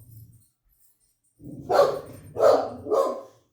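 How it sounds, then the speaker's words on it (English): A dog barks nearby in a workshop where wood molds are being carved, a low grumble followed by three loud, spaced barks, with no talk over them. "I don't know what my dog's going on about."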